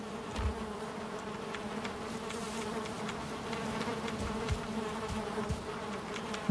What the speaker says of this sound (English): Bees need more space.